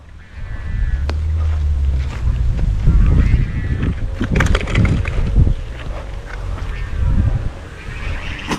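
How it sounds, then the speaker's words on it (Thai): Strong gusty wind buffets the microphone around a flying Thai chula kite outdoors, loud rumbling bursts rising and falling while voices call out faintly now and then. "ลมแรงมากครับวันนี้"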